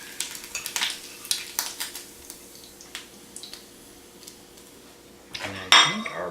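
Bacon comes out of a frying pan, with a series of light metallic clinks and scrapes from the utensil against the pan over a faint sizzle, ending in a louder clatter.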